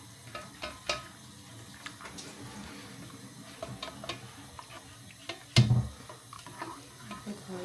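Solidified butter heating and melting in a pan for ghee, giving soft crackles and faint ticking sizzles with one louder knock of a utensil partway through.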